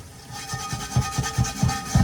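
Steel wool scrubbing rust off a pan, a rhythmic rasping rub repeating about every quarter second, close and steady, with no voices.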